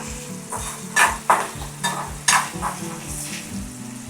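Masala for a prawn curry sautéing in a pan, a close sizzle broken by repeated rhythmic scrapes and stirs of a spatula, about a dozen strokes in quick succession.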